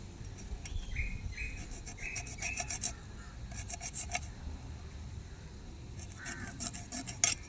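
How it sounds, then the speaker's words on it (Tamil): A knife cuts through a sea fish being prepared for pickle, giving quiet, rasping, scraping strokes in short bursts over a low background hum. "இந்த மாதிரி இதை கட் பண்ணி எடுக்கணும்"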